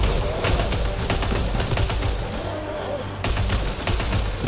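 Semi-automatic gunfire in the video game Mass Effect Andromeda, a dense and loud volley of bangs and impacts over booming combat noise, continuous throughout.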